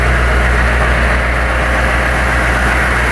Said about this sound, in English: It's a little loud in here with the vehicle on